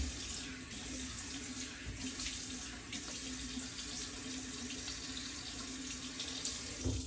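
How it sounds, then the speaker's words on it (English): A tap runs steadily into a sink as a shaving brush is rinsed under it, a continuous close hiss of water with faint splashes and no talking. "Rinse out my brush, and then squeeze the water out"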